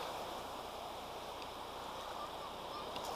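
Ocean surf washing steadily onto a shell-strewn beach in the aftermath of high surf, a continuous soft roar of moderate waves with no voices heard.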